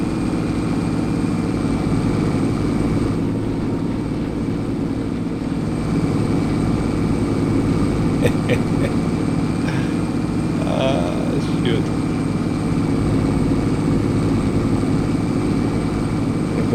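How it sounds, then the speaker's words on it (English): Strongest tractor in a farming video game, engine load near maximum, droning with a steady, loud low rumble as it strains under heavy load, continuous throughout with a brief spoken word over it. "this is the strongest tractor we have, and it's struggling."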